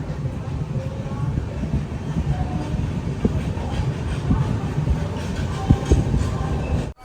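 Visakhapatnam–Korba Express passenger train running, a steady loud rumble with rhythmic clickety-clack of wheels over rail joints and occasional sharp knocks, heard from on board.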